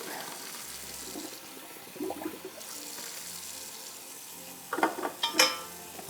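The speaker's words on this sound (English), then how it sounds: "I'm gonna take it over to a colander in the sink and drain it and then get it under cold water so it'll cool off" Cooked macaroni is drained in a colander in the kitchen sink and rinsed under running cold tap water, with soft trickling and splashing that breaks into louder bursts of spattering toward the end.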